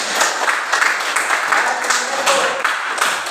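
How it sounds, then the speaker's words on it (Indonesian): A classroom group claps in applause, a dense, steady patter of many hands that runs throughout, fairly loud and close. "Kita memberikan aplaus."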